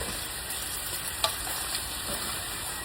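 Ground meat sauce for a crockpot lasagna stirred in a pot, a steady soft sizzling hiss with one brief clink of the spoon partway through.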